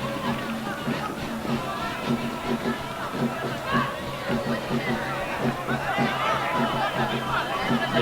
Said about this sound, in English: The crowd really getting into it now for Sao Paulo.